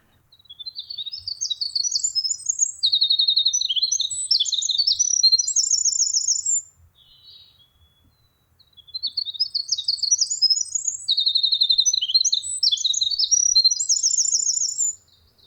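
A kinglet, a small songbird, sings long, high, rapid tumbling phrases in a forest, two bursts separated by a short pause, loud and clear against an otherwise quiet background.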